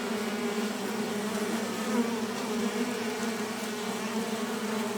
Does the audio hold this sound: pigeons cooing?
no